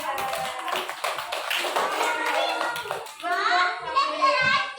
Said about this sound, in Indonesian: kita beri tepuk tangan dulu buat si Fadil